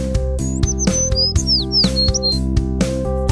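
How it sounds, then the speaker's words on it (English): Short, bright bird chirps and tweets repeat in quick bursts over a steady, upbeat children's music backing, with no talking. "Bird."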